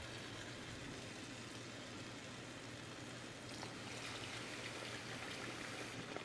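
Chicken broth, about a cup and a half, poured into a cooking pot for Louisiana jambalaya, making a steady continuous trickling stream of liquid with a low background hum throughout.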